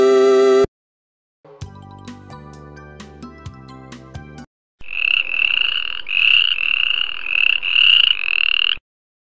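A frog croaking in a children's educational game, a loud run of rapid, pulsing croaks lasting several seconds, after a short tone and a plinking musical jingle.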